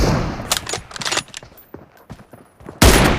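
Rapid bursts of gunfire from the battle game PUBG, played on a Poco X3 Pro phone, come as loud clustered shots with short gaps and a heavy blast near the end.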